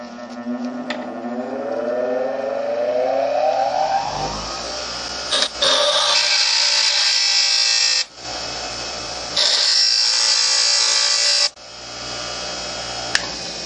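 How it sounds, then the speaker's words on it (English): A bench grinder runs up to speed with a rising whine, then grinds a homemade ACME tap square in two long, steady passes separated by brief pauses, loud and close with no talking. "I'm going to put this thing against a bench grinder, and I'm going to grind it so it's more square"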